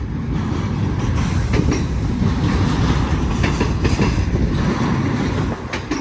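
A BNSF freight train loaded with domestic containers rolls past at Cajon Summit, a loud, close, continuous rumble of wheels and railcars with steady clatter throughout.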